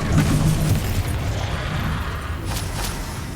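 A fire spell is cast in the Hogwarts Legacy video game, a loud whooshing burst with low rumbling crackle that holds steady for a few seconds, with sharper flares near the end.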